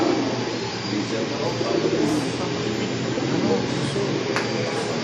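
Pigeons coo in a loft holding German and De Bruxelles young birds, a soft steady coo chorus beneath someone talking throughout.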